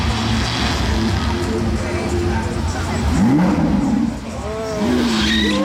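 A Ferrari California T sports car revs and speeds past nearby, with tire squeal and a rising engine note over busy street noise.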